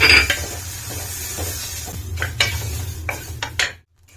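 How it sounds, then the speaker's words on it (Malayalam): Muttayari rice is dry-roasted in a pan for peanut flaxseed laddu. Scattered scraping and clinking stirs of the grains against the metal run over a low rumble, then stop abruptly. "ഇനി നമുക്ക് ഈ അരി ഒന്ന് വറുത്തെടുക്കാം"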